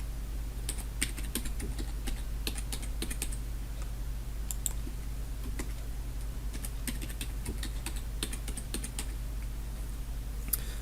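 Fingers typing a password on a computer keyboard while setting up a virtual machine, giving soft, irregular clicky keystrokes in scattered bursts over a steady low hum, with no talking.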